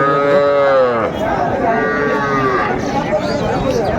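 Sahiwal cattle moo loudly and close by at a busy cattle market in Mymensingh, two long, deep lowing calls rising over a steady murmur of crowd noise.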